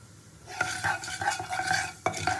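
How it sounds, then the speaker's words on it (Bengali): Nigella seeds sizzling in hot oil in a wok, a soft crackling fry broken by repeated stirring scrapes of a spatula, close and fairly quiet. "তেলটাকে খুব ভালো করে গরম করে প্রথমে তেলের উপরে একটু কালো জিরে দিয়ে দেবো।"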